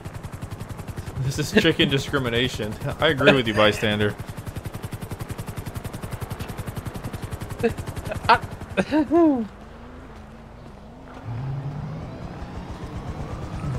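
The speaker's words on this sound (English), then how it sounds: "Why do they have a helicopter going up in there?" A helicopter flying overhead in GTA 5: a constant rapid rotor chop runs under people talking and bursts of other game noise, then continues alone near the end.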